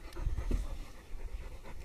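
Several young puppies pant in quick, soft, rhythmic breaths close by, a low steady huffing with faint background noise and no voices.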